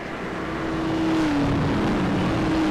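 Stock cars follow a pace car through a restart zone at a race track, a loud steady engine drone with a held tone that shifts slightly in pitch, continuous and close.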